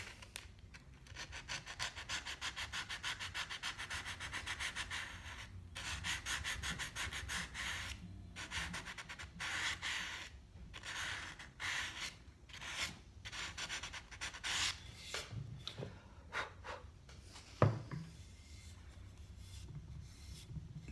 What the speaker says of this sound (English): So now I'm going to take some sandpaper and just round the edges so it looks more like a ripple than a gouge.